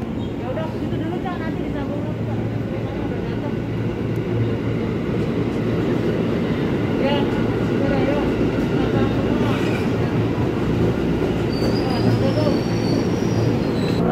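A KRL commuter train at a station, a loud continuous rumble of wheels on rails with a high squeal rising near the end, while people speak nearby.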